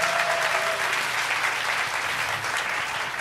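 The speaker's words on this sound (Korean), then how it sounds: "박수 한번 크게 보내드리겠습니다" Audience applause for a band at a Christian musicians' contest final held in a church, a steady dense wash of clapping from a crowd, moderately loud and continuous throughout.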